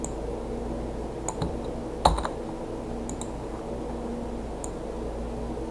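Computer keyboard keys pressed for copy and paste shortcuts, a few sparse, close clicks over a steady fan-like background hiss, with one slightly louder tap near the middle.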